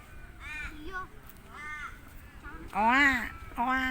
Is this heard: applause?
no